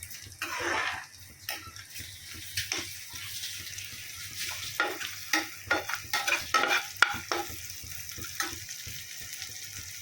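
Dried night jasmine flowers sizzle quietly in a pan while a utensil stirs and scrapes them in repeated short bursts, growing busier toward the middle.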